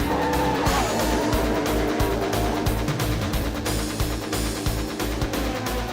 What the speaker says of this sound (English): How can 3 collisions occur in this one crash between a car and a wall?